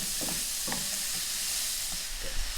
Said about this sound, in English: I'm going to wait for the oil to warm up. We're going to add our onion now.